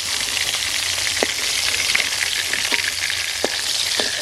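Fish fries in hot oil with a dense, continuous sizzling hiss, marked by a few brief clinks and scrapes from a utensil.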